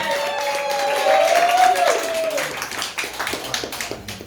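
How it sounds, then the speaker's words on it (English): Crowd applause and clapping at the Philadelphia Independent Film Festival, loud and dense for several seconds, with a voice over it and the clapping thinning toward the end. "Clap your hands. Come on, put your hands together."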